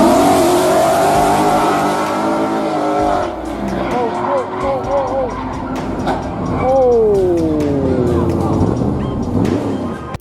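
A speeding supercar revs and accelerates hard with engine whine and tire noise before a crash, loud and continuous, with a voice speaking over it.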